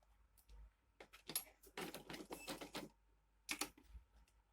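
A sewing machine stitches a seam on a small handmade bag in short, quiet runs of rapid needle clatter, separated by brief pauses, with no talking.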